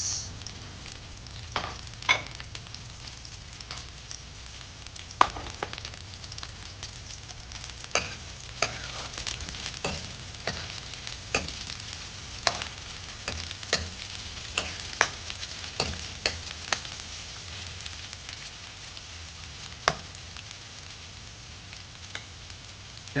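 Onion, garlic and ginger fry in a pan for chicken tinola, a steady close sizzle broken by frequent sharp clicks and scrapes of stirring, with no voices.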